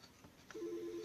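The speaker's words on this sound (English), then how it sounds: "it's ringing again" A telephone rings with a short repeated electronic tone pattern in the second half, preceded by faint clicks and room noise, fairly close and alone without talk.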